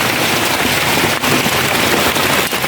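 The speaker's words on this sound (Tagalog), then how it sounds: "Ano, malakas yung ulan." Dense, steady hiss of heavy rain pouring onto a surface, loud and constant, with a couple of sharp taps mixed in.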